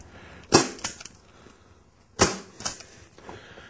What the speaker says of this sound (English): Grab my staple gun.